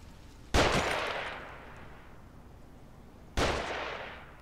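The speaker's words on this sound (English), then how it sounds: "Find cover, they're shooting." Two sharp, loud gunshots about three seconds apart, each with a long fading echo, fired by enemies in the horror video game The Evil Within.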